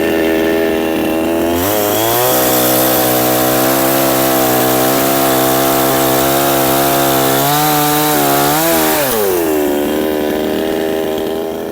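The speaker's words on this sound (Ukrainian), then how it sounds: "Завели бензопилу і будемо пробувати різати." A loud Helper chainsaw runs up to a high, steady whine as it bites into wood, its pitch sagging and rising under load before revving down.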